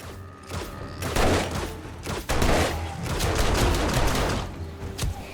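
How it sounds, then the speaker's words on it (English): Rapid bursts of dart gun fire in the zombie survival game 7 Days to Die, dense overlapping shots in loud clusters separated by brief pauses, close and sharp throughout. "Clean headshot right there. That dart gun."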